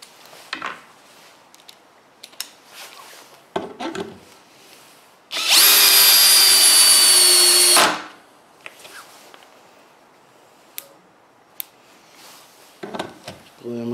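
A Metabo or Bosch 18V cordless drill drives a screw in one loud, steady whirring burst of about two and a half seconds, with quieter handling clicks and knocks before and after.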